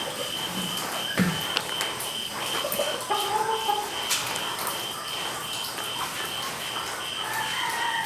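Gamefowl roosters on a farm give scattered clucks and short calls over a steady outdoor background hum, some close and some farther off, with no one speaking.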